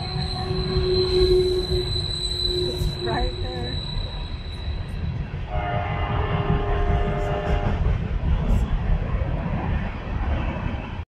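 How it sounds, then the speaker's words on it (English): Train passing a trailside campsite next to a very loud railway, heavy rumble with high metallic wheel squeals rising and falling over about eleven seconds, close and loud. "There's a train, third one since we've been here."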